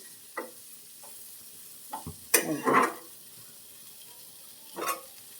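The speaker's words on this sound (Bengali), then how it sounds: "তো একটু হালকা ফ্রাই করে নিচ্ছি" Potato and bitter gourd stirred in oil with panch phoron, turmeric and salt, giving a few scattered scrapes of a spatula over a faint, soft sizzle in a quiet kitchen.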